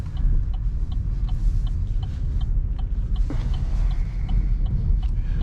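A car's turn signal blinker ticks in a steady, even rhythm inside the cabin, heard under a constant low road and engine rumble as the car eases into a turn.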